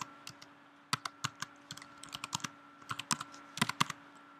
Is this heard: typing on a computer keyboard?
yes